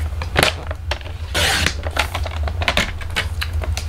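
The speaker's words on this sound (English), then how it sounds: "I'm going to use my trimmer because I can't cut straight" Paper trimmer slicing card stock, a rapid series of close scraping and clicking strokes with one longer sliding cut in the middle, loud and alone without talk.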